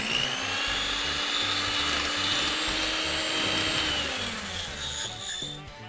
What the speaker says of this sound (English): And we're just gonna keep whipping until we have stiff peaks.